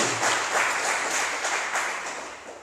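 A church congregation at a reopening service gives a sustained round of applause, steady and fairly loud, gently fading toward the end with no talk over it.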